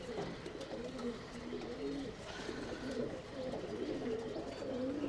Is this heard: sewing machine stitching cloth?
no